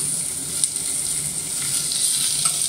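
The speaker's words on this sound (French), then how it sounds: "On va venir faire suer cette garniture aromatique." Carrot, celery, onion and garlic sweat in a pan during a French beef recipe, making a bright, even, close sizzle with a few faint stirring touches.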